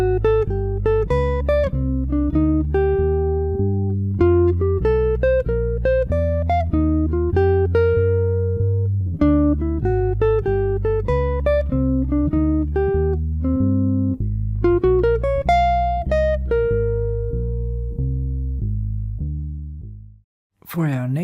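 A jazz guitar plays a fast single-note pattern exercise of the kind used over a dominant seventh chord, a quick, continuous run of clean notes that ends with a held note and a brief stop.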